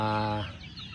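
Chickens on a farm of healthy hens give a short burst of clucking, a harmonic call up front that breaks into softer scattered clucks, close and loud with no talking.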